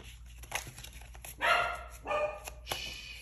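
Several dogs barking nearby in a few sharp bursts with short pauses between, moderately loud against a quiet indoor background.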